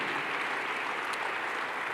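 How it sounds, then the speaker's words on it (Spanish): Church congregation applauding at a pastor's leadership conference, a steady dense wash of many hands clapping at moderate loudness with no voices over it. "Podemos darle un fuerte aplauso a nuestro Dios."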